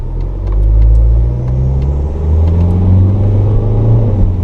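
A worn Renault Megane with a 1.9 dCi diesel engine runs with a close, loud, low rumble and slight rising revs, steady throughout with no voices.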